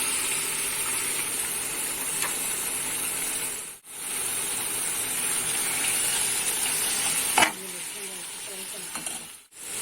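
Loud, steady sizzling and hissing of mutton frying in hot oil, with brief scraping and clinking as it is stirred.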